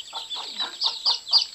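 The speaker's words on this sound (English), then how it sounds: "maybe she left a few chicks in with her, Helen" A broody hen with day-old chicks clucks in a quick series of soft, close, repeated calls, about six short pulses in under two seconds, with no talking.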